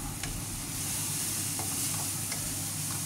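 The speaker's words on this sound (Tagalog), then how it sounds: "keep stirring" Bacon stirred in a frying pan with garlic, a steady close sizzle with a few light scraping stirs.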